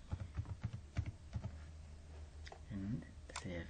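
Computer keyboard typing in quick bursts of close, crisp key clicks, then a pause, with a voice speaking toward the end.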